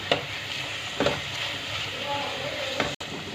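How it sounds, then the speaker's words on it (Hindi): A masala for mixed dal sizzles as it is stir-fried, a close steady frying hiss with a few sharp scraping strokes of the spoon, ending in a brief dropout. "ये अब भून चुका है"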